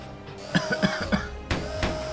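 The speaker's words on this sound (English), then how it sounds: "Natsuhiko panicked as he heard Yuri's coughing" A series of rough, hacking coughs from a character in smoke in the video game Root Double: Before Crime * After Days, about four in quick succession, over a humming background with a tonal drone.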